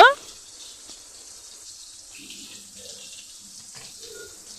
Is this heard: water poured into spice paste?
yes